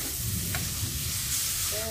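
Chicken pieces frying in sautéed spice paste for Indonesian soto ayam, stirred in the pan with a steady close sizzle and scraping strokes, and no talking over it.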